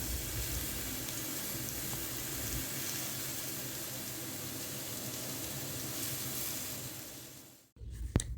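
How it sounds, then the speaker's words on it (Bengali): Beto shak greens dropped into a hot pan give a steady, fairly quiet sizzle and hiss that runs unbroken, then drops away abruptly near the end, leaving a brief clatter. "এবার আমি শাকটা ওর মধ্যে অ্যাড করব বেতো শাক"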